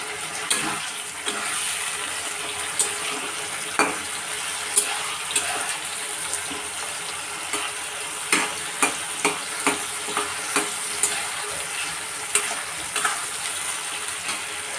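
Fish fat frying with mixed vegetables in a pan for a Bengali wedding-style mixed vegetable dish: a loud, steady sizzle runs throughout, broken by frequent sharp clicks of stirring, with no talking.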